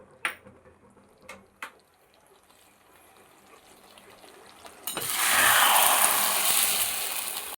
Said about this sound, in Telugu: ఇప్పుడు ఇందులోకి 1/2 tea spoon soya sauce mix చేసుకొని చికెన్ మసాలా బాగా మిక్స్ అయ్యేటట్టు వేయించుకుందాం